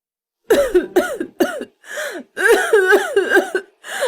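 A series of harsh, raspy coughs come in quick bursts, close and loud, with brief pauses and strained gasping sounds between them.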